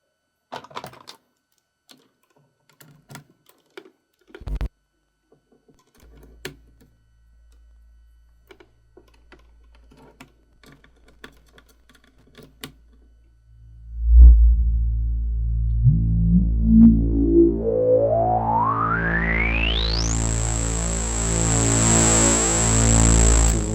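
Sparse, scattered clicks give way to a loud, distorted synthesizer tone that sweeps steadily upward in pitch and holds at a high, buzzy peak.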